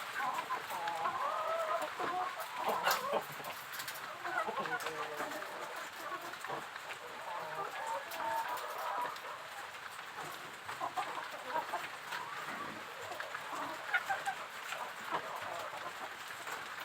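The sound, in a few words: chickens clucking in a chicken coop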